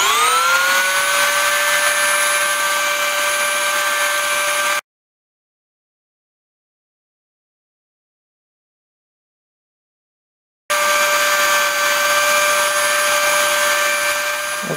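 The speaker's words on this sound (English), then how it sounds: "since I got the polisher out, might as well polish up some of the surfaces that bear against each other" Rotary polisher running against the surfaces of a Ganzo G716 folding knife, a loud, steady, high-pitched motor whine with a rising spin-up at the start, cut off by a long silent gap, then resuming at the same pitch.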